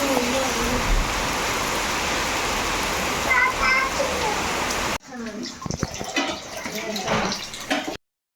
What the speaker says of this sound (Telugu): ఎంత జోరుగా వస్తుంది చూడండి వర్షం